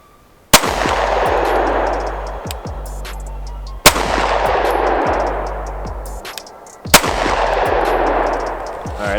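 Three loud, sharp gunshots from a custom Sig P320 pistol fired outdoors, each with a long ringing decay, spaced a few seconds apart.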